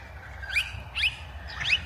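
Small birds chirping outdoors: three short, bright tweets evenly spaced over a low rumble of background noise.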